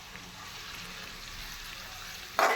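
Chopped onions sautéing in hot oil for pav bhaji give a steady, close, soft frying hiss that swells into a brief louder sizzle near the end, with no talking.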